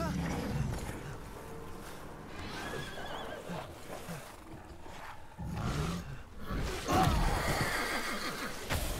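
A horse neighs in the video game Resident Evil Village, with whinnies and snorts rising over a rumbling game soundscape while a person talks intermittently across the scene.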